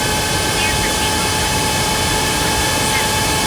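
Jet engines of a TAP Air Portugal Airbus A320neo roar steadily and loudly during takeoff from Porto, in a flight simulator game, as a constant broadband rumble.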